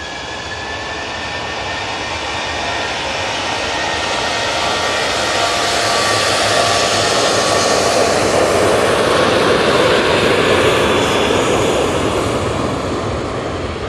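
A TUI airliner approaching the runway at Manchester Airport, a broad jet roar that swells steadily over the fourteen seconds and holds loud and near toward the end, with no voices.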